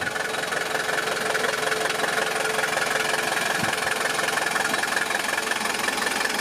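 A 1969 vintage Mercedes diesel car idles close by, its engine giving a steady, loud, rattling clatter with a continuous low hum and no voices over it.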